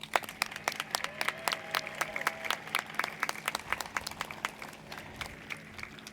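A sparse graduation audience applauds college leaders at a commencement ceremony, scattered distinct claps at a distance in a large space, irregular and fairly faint.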